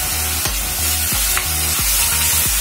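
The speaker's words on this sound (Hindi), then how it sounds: "थोड़ा सा हम इसे भूनेंगे पहले।" Onion frying in a generous amount of oil in a pan for an eggless paneer egg curry, a loud continuous sizzle with several scraping stirs at a regular pace, no talk.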